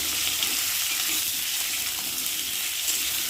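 Potatoes fry with tempering spices in a pan, giving an even, close-up sizzling hiss with faint stirring scrapes underneath, continuous and unbroken.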